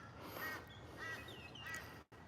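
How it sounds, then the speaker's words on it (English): Several hoarse, nasal bird calls come in short bursts at moderate distance, with a brief gap near the end. "These poor things are ibises"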